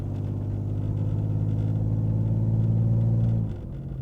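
Land Rover Freelander engine with a steady low rumble and strong harmonic drone while being driven on the road, holding an even level before easing off abruptly near the end, with no talking.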